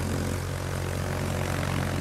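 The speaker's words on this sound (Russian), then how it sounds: "Истребитель взлет произвел." A fighter aircraft taking off from a carrier in the World of Warships game, a steady droning propeller engine roar that stays loud and even throughout, with no talk.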